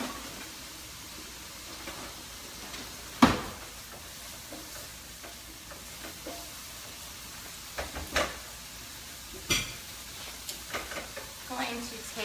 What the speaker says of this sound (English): I'm gonna bring my pan over of jars.